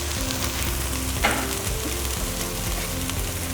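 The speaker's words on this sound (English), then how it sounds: "on this pan at the back that I'm heating up, I'm just going to add some little cauliflower florets to this" Small cauliflower florets sizzling steadily in a hot pan for a garnish, a loud, even frying hiss throughout with a brief burst of crackle partway through, no talking.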